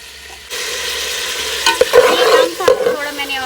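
Ghee bursts into a loud, close sizzle in a pot on a village clay stove, steady frying hiss broken by a couple of sharp stirring knocks against the pot.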